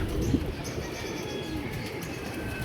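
A pigeon near a rooftop loft coos in a low, steady rumble, close and fairly loud, with faint chirps over a constant outdoor background.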